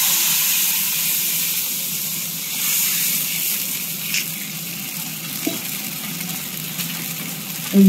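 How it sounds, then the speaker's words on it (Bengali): Fish frying in a pan gives a continuous, even hiss of oil, close and fairly loud, with a few faint clicks and a brief knock at the end. "মাছটা ভাজা হচ্ছে।"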